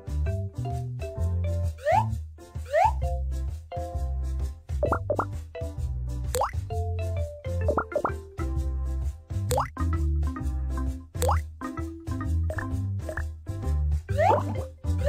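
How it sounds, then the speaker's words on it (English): Cartoon eye drops falling into an eye, a rapid series of bright, bubbly plops and drips that bounce up and down in pitch, close and clear with no talking. "Apply some eye drops to wash the sand out."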